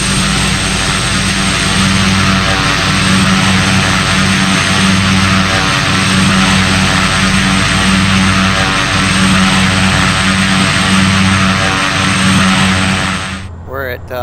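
Pilatus PC-12 turboprop in a flight simulator on a steep descent into Aspen, a loud, continuous propeller and engine drone with a steady tonal hum that cuts off abruptly at the end.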